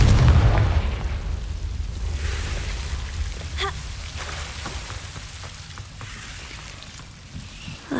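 Confringo spell from Hogwarts Legacy going off in a deep booming burst at the very start, then trailing into a crackling, rain-like spatter of debris and ambient rumble.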